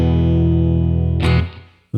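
A Fender Broadcaster electric guitar with Broadcaster A3 pickups rings out a sustained, thick, fat chord through an amp, loud and close, then a scraping strum cuts in and decays before another hit starts.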